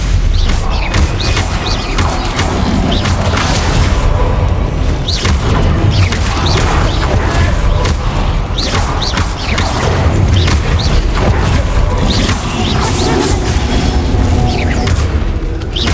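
Stupefy spells cast and hitting in Hogwarts Legacy, heard as repeated booming impacts and magical bursts inside a dense, continuous mix of game effects and music.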